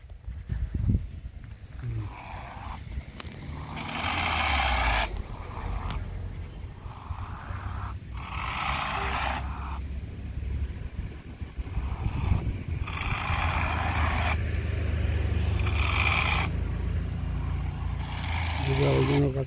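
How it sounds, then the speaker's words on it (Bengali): Hand-held motorized tea-leaf cutter working in a hillside tea garden, its engine droning steadily with repeated bursts of whirring as it cuts, moderately distant, with people talking over it. "তাতে চা বাগানে চা পাতা কাটা হচ্ছে হ্যান্ড মোটর দিয়ে।"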